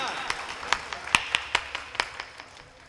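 An audience at a Hindi comic poetry gathering, a hasya kavi sammelan, claps in scattered, fairly faint bursts, a few dozen sharp claps over a couple of seconds that thin out toward the end.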